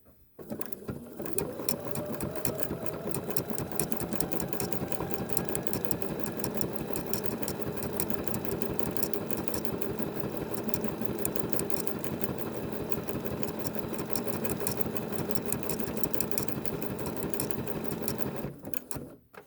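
A sewing machine runs steadily for nearly twenty seconds while stitching a decorative stipple pattern, giving a fast, even mechanical whir with a dense rhythmic needle chatter that starts and stops cleanly, with no voices.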